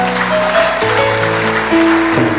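A church congregation claps steadily, a dense wash of applause running throughout under sustained keyboard or organ chords that shift every half second or so, loud and close.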